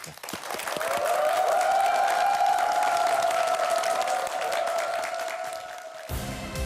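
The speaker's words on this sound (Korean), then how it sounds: "큰 박수로 맞이해" Studio audience at a Korean talk show breaks into steady applause to welcome a China retail expert as guest, loud and sustained for about six seconds with a bright sustained musical tone over it, then cutting off abruptly.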